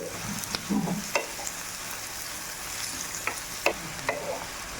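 Small sand fish with onion, green chilli, turmeric and salt stirred in a hot pan for a village-style curry, giving a continuous hiss of frying broken by a few scraping and tapping strokes of a spoon; no talk.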